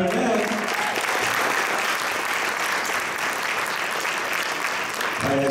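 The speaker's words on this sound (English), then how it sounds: "let's hear it for Jack Compton on clarinet" Audience applause at a jazz festival concert for a county honors jazz band, clapping steadily and loudly throughout, with brief bits of voice at the start and end.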